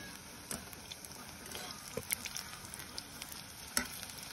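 Pakoras frying in a pan of hot oil during an outdoor tree-house cooking session, a steady low crackle and sizzle with a few sharper pops, while a voice talks faintly.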